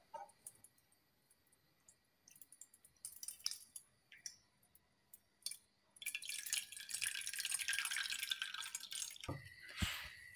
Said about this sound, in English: Now let's pour this saturated solution into this bowl.